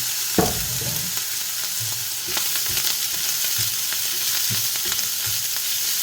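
Garlic fried rice sizzling steadily in a pan, a loud continuous fry with scraping stir strokes breaking through now and then, close and unbroken.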